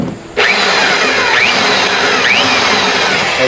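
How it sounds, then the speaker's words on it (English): A Harbor Freight Bauer SDS rotary hammer drill starts up and runs in drill-only mode, a loud steady whirring motor with no hammering, close and continuous with no talk. "This one should be drill only."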